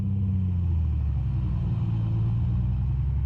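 A Piper PA24 engine in Microsoft Flight Simulator runs at 2,000 RPM during a prop cycle, a steady low droning rumble that holds close and even for a few seconds with no talk.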